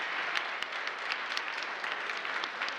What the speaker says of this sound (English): And you get applause even before you did something